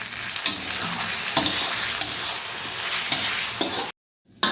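Ground spices, including crushed garam masala, are stirred together in a hot pan for chicken Shahjahani, giving repeated scraping strokes over a steady sizzle, close up with no speech.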